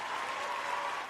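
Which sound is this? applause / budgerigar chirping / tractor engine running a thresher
applause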